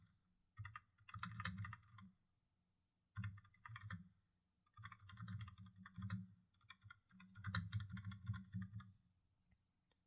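Close, quiet computer keyboard typing comes in three bursts of rapid key clicks, separated by short pauses, as text is entered into a design app, with no voices.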